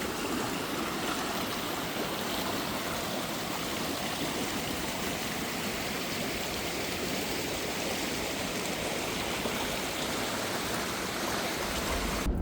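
High floodwater rushes through a stream in a constant, dense roar, loud and close with no breaks and no voices.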